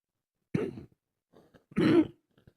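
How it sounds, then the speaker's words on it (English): A person nearby coughs and clears their throat twice, two separate harsh bursts with a quiet pause between them. "I still can't get rid of this cough for anything."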